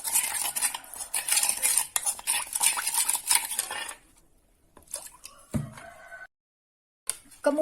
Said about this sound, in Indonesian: Ini kita aduk sampai halus, larutannya tidak ada yang menggerindil ya.